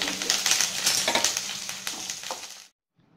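Onions and curry leaves frying in a hot pan, a dense close crackling sizzle with stirring scrapes, steady for under three seconds before cutting to near silence.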